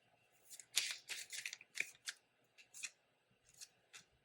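Tarot cards being drawn and handled from a deck, a series of short crisp papery rustles and snaps in an irregular rhythm, close and fairly quiet, with no voices.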